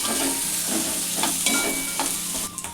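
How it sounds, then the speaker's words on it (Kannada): Onions and cashews fry in oil in a pan while a spatula stirs them, giving a bright constant sizzle broken by a few scraping strokes, close up and without speech. "ಇವಾಗ ಉಳ್ಳಾಗಡ್ಡಿ ಹಾಕೋತೇನೆ ರೀ. ಎಲ್ಲನೂ ಒಂದ್ಸಲ ಮಿಕ್ಸ್ ಮಾಡ್ಕೋಬೇಕು."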